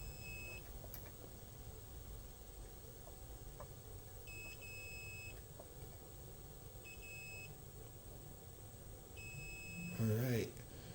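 A multimeter gives continuity beeps while probing a circuit board during a RAM replacement on a Cruis'n World arcade board, four short steady tones at intervals under faint background hum, followed by brief talk.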